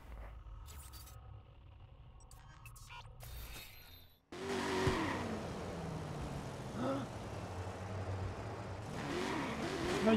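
A car in the Watch Dogs video game drives and revs, a sustained engine drone that jumps louder midway and keeps rumbling with rising surges, with brief talk faintly present.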